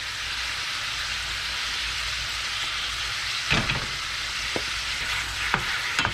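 Beef seasoned with salt and pepper browns in a hot pan for American Chinese broccoli beef, giving a steady close sizzle with a few sharp spatters and utensil clicks near the end.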